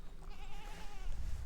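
Goats bleat on a ranch, a few wavering calls close by over a low rumbling background, with no one talking.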